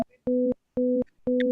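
Three steady pure electronic tones, each lasting about a quarter second and separated by short gaps, sound in a regular on-off pattern, clean and close, with no voices.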